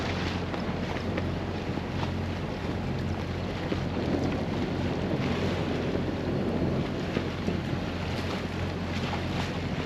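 Sailboat cruising near St. Barts in the Caribbean, with steady wind roar buffeting the microphone and a continuous wash of water along the hull, loud and constant throughout without any talking.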